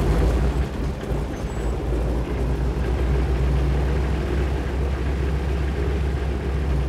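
Firefighting aircraft used for water drops, heard as a loud, steady engine roar that holds at one level throughout, close by, with a deep low rumble and no voices.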